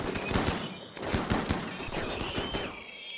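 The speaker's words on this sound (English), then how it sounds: "Keep shooting." Rapid bursts of gunfire from turrets and colonists in Rimworld, dense overlapping shots crackling continuously for a few seconds with no talk over them.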